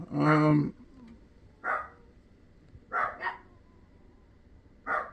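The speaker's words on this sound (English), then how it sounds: "Sounds like the dogs are" A dog gives a loud bark, then several more barks come in separate bursts, some doubled, across a few seconds against a steady low background hum.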